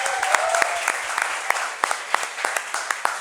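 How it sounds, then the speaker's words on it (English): An audience at a college event in India applauds, giving a sharp, irregular patter of claps with distinct individual hand strikes over a soft crowd wash, moderately close. "a big round of applause for yourself"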